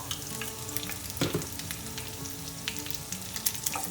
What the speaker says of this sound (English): And we can hear that frying now.